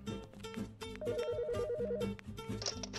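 A telephone rings in an office with a short warbling trill lasting about a second, heard midway over steady background music.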